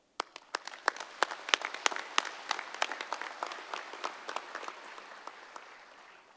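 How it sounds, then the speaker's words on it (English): An audience applauds the graduating Class 222 at a San Bernardino Valley College and San Bernardino County Sheriff's Department academy ceremony, with crisp individual claps swelling into steady clapping that slowly thins out. "we applaud you"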